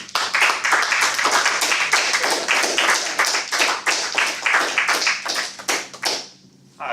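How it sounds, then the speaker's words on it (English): Audience applause at a Toastmasters club meeting: a small room of people clapping in quick, crisp, uneven claps that stay steady, then thin out and stop near the end. "Let's give a round warm of applause for Orion."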